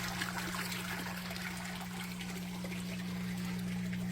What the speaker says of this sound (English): Hear the water running. It's very peaceful to see the water running.